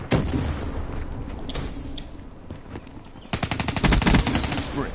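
Rapid gunfire from a weapon in Black Ops 3, bursts of dense automatic shots that grow louder and more continuous near the end, with faint game noise underneath.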